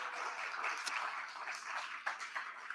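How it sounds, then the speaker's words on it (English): A studio audience at a live talk-and-music show applauding, a soft, fairly distant scattering of claps with a few sharper individual hand strikes standing out. "Please give an applause."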